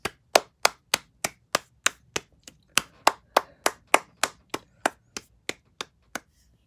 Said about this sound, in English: Let's clap for him for also getting us out of the school.